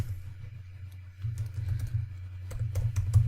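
Someone types on a computer keyboard, entering a Cordova plugin command. The key clicks come in quiet, irregular bursts that grow busier toward the end, with no talking.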